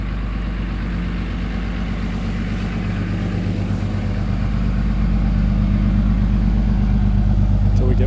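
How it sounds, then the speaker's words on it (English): A truck engine rumbles low and steady on a small-town street in Dillon, Montana, growing gradually louder and closer over the span with a throbbing mid-range drone. "Until we get past this truck."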